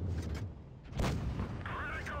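A tank cannon shot from World of Tanks Blitz, heard as a single loud boom at about the one-second mark over steady game background, with a faint mechanical whine following.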